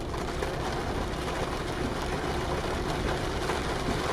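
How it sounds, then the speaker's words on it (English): Steady rain drums on a truck windshield in Euro Truck Simulator 2, a dense continuous patter over a low engine hum while driving toward Jönköping, fairly loud and unbroken throughout. "I love the sound of the rain on the windshield too."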